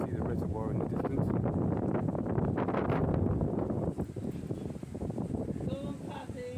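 Wind gusting over the upper heights of Cheddar Gorge, a steady loud rush buffeting the microphone throughout, easing slightly midway, with faint rustling beneath.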